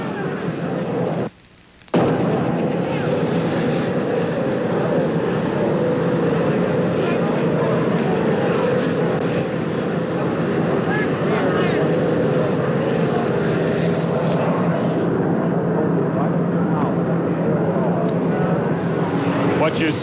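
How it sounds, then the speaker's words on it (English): A loud, steady roar of an Army helicopter that has just landed fills the scene, its engine and rotor noise droning close by throughout, with a voice talking over it. "An Army helicopter has just landed. It's making a great deal of noise."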